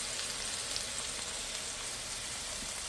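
Salmon fillet shallow frying in oil in a pan, a steady dense sizzle and crackle throughout with no pauses.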